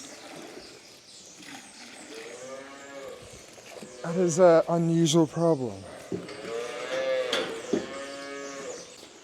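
Cattle in calf pens moo loudly and repeatedly, several long drawn-out calls in close succession, with a person speaking briefly over them.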